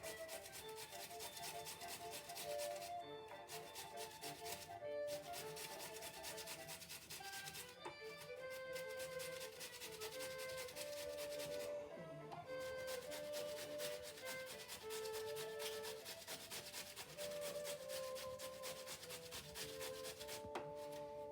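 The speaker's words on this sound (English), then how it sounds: "get a grater and grate them until we have a nice pile" Potatoes grated on a hand grater for hash browns, a fast continuous rasping scrape with rhythmic strokes and brief pauses, close and fairly steady over light background music.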